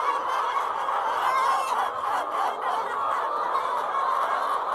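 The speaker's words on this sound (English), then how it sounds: "As you can hear, the birds are making a lot of noise." Farm poultry flock calling loudly and continuously, a dense chorus of gobbling, clucking and honking birds close by, with no talk over it.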